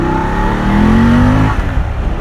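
A BMW F 750 GS motorcycle, restricted to 48 hp for the A2 licence, pulls away from a start in an urban street, its engine note rising loud and close for about a second before easing.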